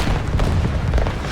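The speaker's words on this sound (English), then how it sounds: "Friendly artillery beacon out." Heavy friendly artillery strike in the Modern Warfare shooter, a dense run of deep booming blasts that roll together loud and close for the whole moment, with no voices over it.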